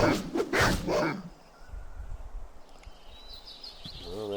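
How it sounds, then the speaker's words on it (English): Wild dogs bark in a quick burst of several loud yaps in the Baldur's Gate video game, followed by quieter game ambience, faint yips and a rising whine. "Wild dogs, huh?"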